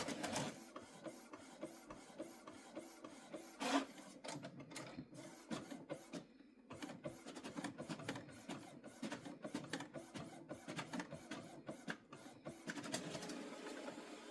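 An Epson ET-8550 inkjet printer runs steadily, with repeated clicks and whirring carriage passes in an uneven mechanical rhythm, close by and fairly loud, no talking.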